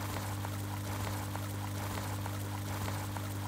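Water gushes steadily from newly struck ground in the point-and-click game Deponia, a constant loud pouring rush with a low hum beneath, no voices.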